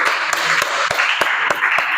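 Classroom applause for a student group at the end of their presentation, a few sharp claps spaced out over two seconds, fairly close and moderately loud.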